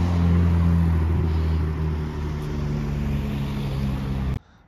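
A Ferrari 296 engine revs hard at night in Monaco, a loud, steady, close roar holding for about four seconds before cutting off abruptly.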